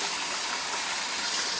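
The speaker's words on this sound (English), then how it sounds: "we're going to rinse it just with cold water" Cold running water rinsing a raw turkey, a dense close gush of water pouring steadily throughout.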